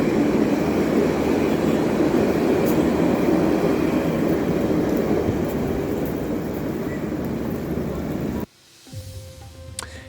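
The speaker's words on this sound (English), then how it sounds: "And this is taking the train." Loud, steady rumble and rattle of a moving train in Israel heard from inside a carriage, dropping abruptly to a quieter hum near the end.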